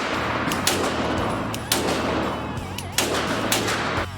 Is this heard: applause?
no